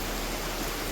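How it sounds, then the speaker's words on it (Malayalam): Steady heavy rain pours down as a continuous dense wash of noise, even and unbroken throughout, with no voices present. "നോക്കിക്കേ, ഭയങ്കര മഴ നടക്കുവാണേ"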